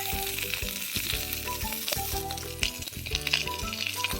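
Oil sizzles and fries steadily in a hot kerahi wok set over an outdoor wood fire, a dense continuous crackle with some clanks and stirring knocks.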